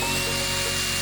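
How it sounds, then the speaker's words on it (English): A power drill bores holes through the metal roof of a campervan being built, giving a steady, high-pitched whine that runs loud and unbroken throughout. "We're just trying to find a good location to drill the first holes in the metal."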